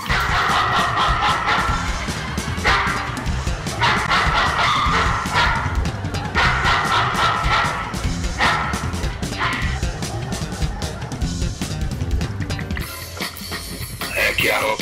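Dog barks woven into an Italian pop song keep recurring in quick bursts over the full backing track, loud and rhythmic throughout.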